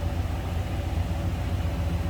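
A 1970 Chevrolet Malibu Sport Coupe's 350 V8 idling after a cold start, a steady deep low rumble with a slight lope, close and unbroken, with no voices.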